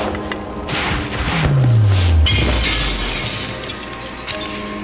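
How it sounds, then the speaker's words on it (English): Glass smashing in the video game 9 Clues 2: The Ward as a cane strikes a glass table, a loud crashing shatter with a descending low tone and a bright breaking burst midway, then scattered debris. "The cane smashes the glass table."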